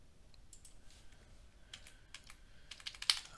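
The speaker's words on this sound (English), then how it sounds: "Just using my keyboard instead of typing with the mouse" A computer keyboard is tapped in short, irregular bursts of quiet, close keystrokes, growing busier and a little louder toward the end, with no talking.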